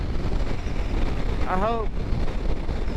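Wind buffets the microphone while a Honda CBR motorcycle rides at night, a constant loud rushing roar with a brief spoken phrase over it.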